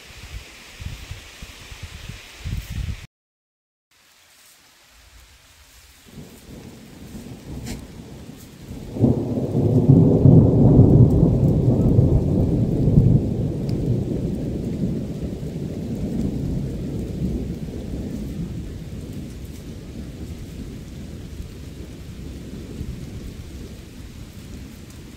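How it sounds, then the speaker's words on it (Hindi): Heavy rain pours steadily, swelling into a loud rumbling roar that lingers and slowly eases, with a deep thunder-like rumble inside it. "ये पूरी बारिश है कोहरा नहीं है पूरी बारिश ही बारिश है"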